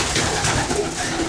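Racing pigeons cooing inside a loft, soft throaty calls repeating close by over a steady background of rustling and murmuring birds.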